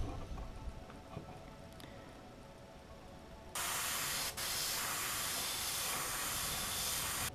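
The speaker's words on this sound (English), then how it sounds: "I always spray the first little bit out because it starts here" An airbrush spray gun loaded with thinned candy paint for a fishing lure starts with a soft hiss, then bursts into a loud, steady spray that continues to the end.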